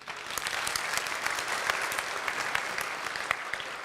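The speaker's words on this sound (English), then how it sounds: "Round of applause." An audience at a children's programme gives a round of applause, a steady, even burst of many hands clapping that holds at a constant level throughout.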